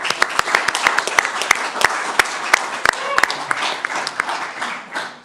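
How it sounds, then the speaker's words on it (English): Applause at a city council meeting for an honored public safety dispatcher, a modest crowd clapping with sharp individual claps standing out, loud and near, tapering off at the end. "That deserves an applause just by itself."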